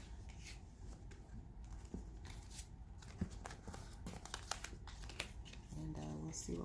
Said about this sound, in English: I'm going to just cut the deck